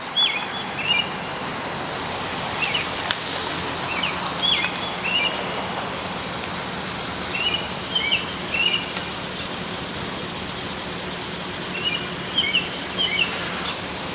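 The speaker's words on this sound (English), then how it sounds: "so you can hear a lot of birds wherever you go." Birds chirp in short scattered bursts over a steady outdoor hiss along Avenue Road in Toronto during a bike ride, fairly distant and light.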